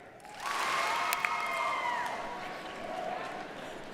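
An audience applauds at a College of Business commencement, a dense wash of clapping that swells quickly and holds steady, with a voice faintly audible over it.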